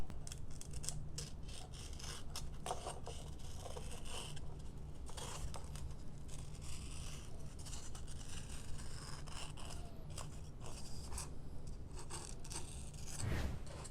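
A bevel being cut along the top edge of a plastic model skin on an A10 Master Series, a continuous close, soft rasping scrape that holds steady under faint background hiss, with no talk.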